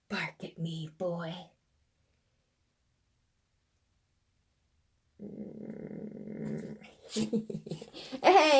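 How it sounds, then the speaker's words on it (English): Dog growling, low throaty rumbles in short bursts, heard close, with someone talking briefly at the start and again near the end. "Bark at me, boy."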